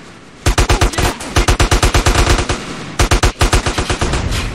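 Loud automatic gunfire in GTA San Andreas, rapid bursts of evenly spaced shots in several volleys with short pauses, close and dominant.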